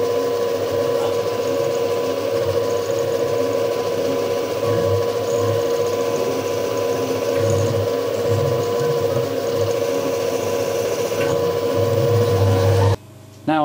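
A milling machine hums steadily with a whirring spindle tone and intermittent grinding pulses as it drills a hole, ending in a brief dropout and a short squeal.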